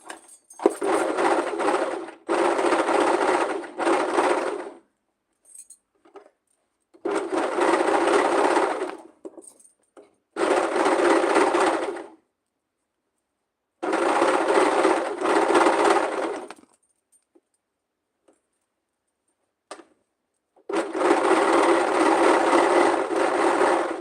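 A serger overlocks fabric edges for homemade underwear, running in several loud bursts of steady high-speed stitching with short pauses between runs.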